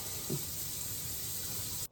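Water runs from a kitchen tap in a steady hiss and splash while being heated for brownie pudding, close and continuous, then cuts off abruptly at the end.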